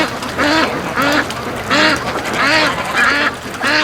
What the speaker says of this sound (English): It sounds like the duck's having some fornication action here.